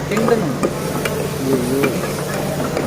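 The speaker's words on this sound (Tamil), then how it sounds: "கிண்டுங்க. அடுத்து கிண்டணும் பாரு." Chicken gravy stirred in a pan, with soft scraping strokes and a gentle sizzle running steadily under faint background sounds, no clear talk over it.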